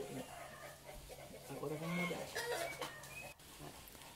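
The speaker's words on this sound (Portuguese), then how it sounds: "galinha não canta, né, cacareja" A hen clucks in short, bursty calls at moderate distance, with a voice talking over parts of the sound.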